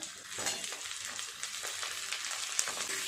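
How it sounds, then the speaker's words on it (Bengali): Capsicum and onions fry in a pan for egg chilli, a constant close sizzle broken by scattered scrapes and taps as a spatula turns them, with no voices. "ক্যাপসিকাম আর পেঁয়াজগুলো একটু এইভাবে নেড়ে চেড়ে ভেজে নেব"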